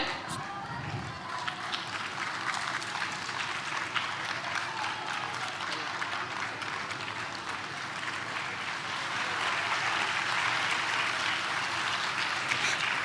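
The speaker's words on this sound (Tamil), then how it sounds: "இன்னும் பெரிய கரகோஷங்கள் கொடுக்கலாமே" Audience applause at the Surya Magal 2025 award ceremony, a long, even wash of many hands clapping, moderately distant, swelling a little louder near the end, with voices mixed in beneath.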